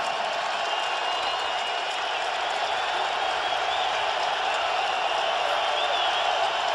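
Steady, loud stadium crowd roar at a 2004 NFL game, Miami Dolphins at New England Patriots, holding an unbroken wall of noise with no distinct voices standing out.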